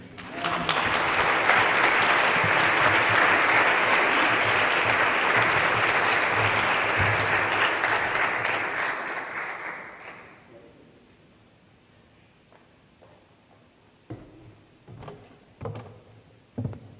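A lecture-hall audience claps warmly for a visiting reverend lecturer, sustained full applause for about ten seconds before it fades to scattered claps and faint room noise.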